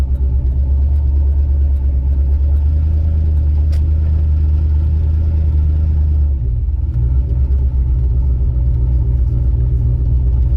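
Chevrolet S10 pickup with a bed-mounted turbo and its exhaust bolted to the bed, giving a steady, loud low rumble while driving, with a slight drop in engine tone about two-thirds through and no talking.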